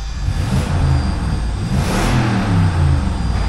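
A 2006 Lexus GX470 at an auto wrecking yard revs its engine, rising in a deep mid-pitched roar, easing briefly, then swelling again. The exhaust has a slight leak. The sound is loud and close, with no talking.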